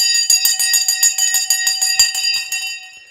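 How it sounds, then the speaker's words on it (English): A bell rings in a fast, steady run of bright metallic strikes for about two and a half seconds, then the tone rings out and fades, loud and close with no talk. "Ring the bell."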